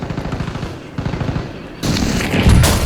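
Gunfire and explosive blasts from a precision airstrike in Call of Duty Warzone, a steady rattle of shots that jumps into a louder, denser barrage of booms partway through, with no talk over it.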